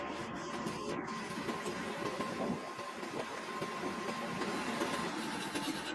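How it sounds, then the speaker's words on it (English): A hacksaw cuts through a motorcycle brake part during a brake repair, its dense rasping strokes running steadily and close for the whole stretch, loud and continuous with no talking. "And then finally, a hacksaw."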